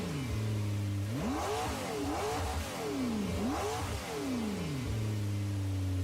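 A McLaren MP4 engine in a racing game revs up and down repeatedly, rising and falling in smooth sweeps with clear tonal harmonics, loud and steady with no talk over it.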